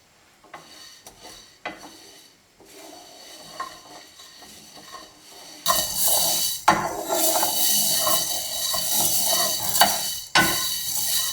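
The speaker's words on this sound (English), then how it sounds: "you may even hear some of them starting to pop a little bit" Coriander seeds roast in a dry pan for a Sri Lankan curry powder, first quiet scattered ticks and scrapes, then a sudden louder sizzling hiss with stirring clatter and occasional sharp pops.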